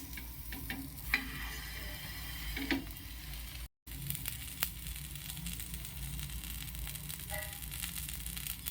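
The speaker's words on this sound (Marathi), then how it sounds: "छान दाबून दाबून आपण याला शेकून घेणार आहोत आता मी हे पलटवते" A sandwich pressed down and toasted on a plain flat tava, a quiet continuous sizzle with small scraping ticks and a short silent break midway, no voices.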